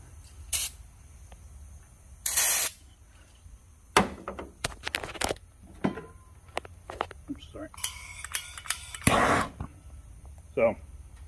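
Aerosol brake cleaner spraying from a can in a garage, several short loud hissing bursts of varying length separated by clinks and handling noises, with a brief spoken word near the end.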